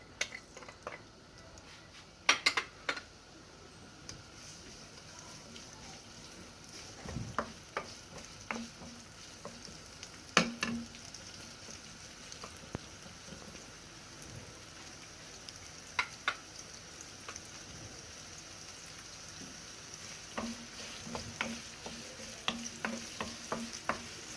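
Onion frying in oil in a pan produces a soft, low hiss with scattered clicks and taps from a utensil stirring against the pan. The sound is quiet and close, with no one speaking.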